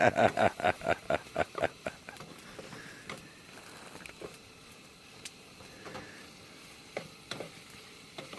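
Meat sizzles in a hot Teflon pan at a campsite, opening with a quick run of rhythmic scraping strokes and then settling into a soft, steady crackle with occasional sharp pops.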